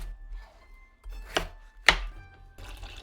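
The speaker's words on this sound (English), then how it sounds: "Peel the potatoes and cut them into bite-sized pieces." Peeled potatoes are chopped into bite-sized pieces for a Japanese home-cooked dish: two sharp, close knife strikes on a cutting board in otherwise quiet kitchen surroundings.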